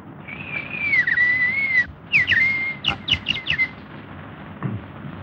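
Bird whistles and chirps in a forest scene from an old film: a long sustained whistle, then a quick run of short rising chirps, fairly close over a faint background, with no talk.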